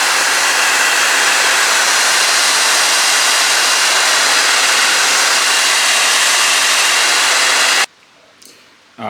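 A loud, steady roaring blower hiss heats the side pillar of a Nissan 350Z Nismo during wrapping, running without pause before cutting off abruptly into near silence.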